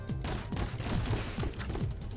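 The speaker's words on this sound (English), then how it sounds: "I hear gunfire." Gunfire in a prop-hunt deathmatch video game: a short run of rapid, muffled shots in a low, dense rumble at moderate volume.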